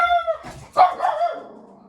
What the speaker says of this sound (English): You like the barking sound?